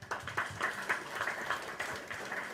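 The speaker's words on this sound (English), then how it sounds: "I thought we'll give him a round of applause" Audience applause honouring the Gbese Mantse, a Ghanaian king, during a courtesy call by a Jamaican delegation; a short, moderately loud burst of scattered hand claps with an uneven rhythm.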